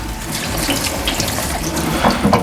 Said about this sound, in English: In this case I'm doing it in the sink.